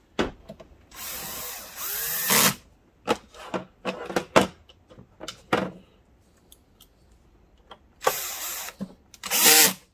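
A power drill drives screws back into a Digital Projection dVision 30 1080 XL DLP video projector, with short bursts of whirring followed by quiet gaps, clicks and handling noises, close and clear.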